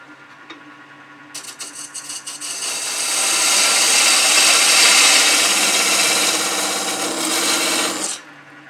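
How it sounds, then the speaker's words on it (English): Narrow parting tool cutting into spinning wood on a lathe, parting a mill head from its body: a loud, steady rasping scrape that starts after a second, builds and holds, then stops sharply near the end. "We're going to part off the mill head from the mill body using a narrow parting tool."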